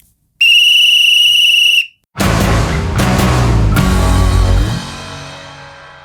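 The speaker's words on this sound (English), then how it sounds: "Give us a blow of the whistle." A referee-style whistle gives one shrill, loud, steady blast lasting over a second. A brief gap follows, then a dense burst of loud, noisy sound that fades out toward the end.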